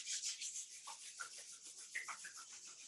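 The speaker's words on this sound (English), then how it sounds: "Rub your palms together again." Palms rub together briskly during a gentle yoga class, a close, soft, continuous hiss of skin with slight swells, no talking.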